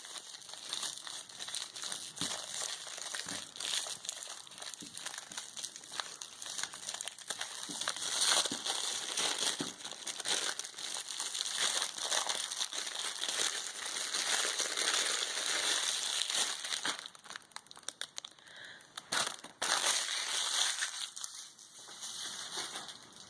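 Plastic wrapping crinkles and crumples continuously, close up, as a candle is unwrapped for a Valentine's Day craft, with a few sharper crackles and no talking.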